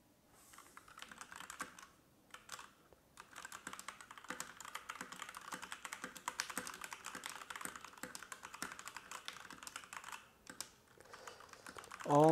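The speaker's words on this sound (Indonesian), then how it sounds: "typing test dari Rexus Legend MX20 Pro Rex Switch" Typing on a Rexus Legend MX20 Pro mechanical keyboard with Rex Switch: a dense, steady run of crisp clicky keystrokes close up, with brief pauses, lasting over ten seconds.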